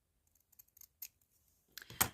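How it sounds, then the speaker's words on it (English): Small metallic clicks and taps, then a sharper clatter as scissors land on a hard surface, quiet and close. "trying to throw the scissors"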